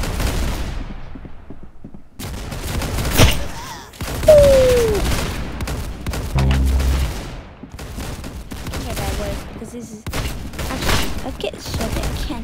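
Rapid bursts of gunfire from a Game Boy shooting game, several volleys spread across the stretch with brief gaps, mixed with game sound effects and a talking voice.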